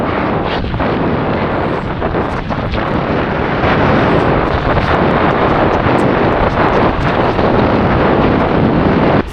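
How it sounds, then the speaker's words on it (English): Strong sea breeze buffets a microphone aboard a sailboat at sea, a loud, continuous rumbling wind roar with gusty surges and no talk. "Beautiful breeze."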